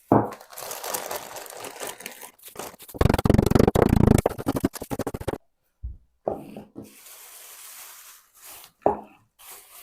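Repeated crunching and crackling as crackers are crushed with a rolling pin inside a plastic bag, with rough rolling strokes, then a pause and a few scattered crunches.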